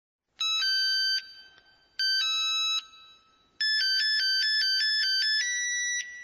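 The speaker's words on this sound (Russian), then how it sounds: "мне удалось все-таки заказать мелодию бумер на свой телефон" The Boomer ringtone melody plays loudly from a mobile phone as a bright, synthetic electronic tune. Two short phrases come first, each separated by a pause, then a longer run of quick alternating notes.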